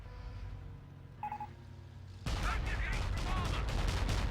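An Ostwind anti-aircraft tank in the Blitzkrieg mod opens fire after a quiet lead-in, and a sustained, loud burst of rapid gunfire with crackling impacts runs to the end.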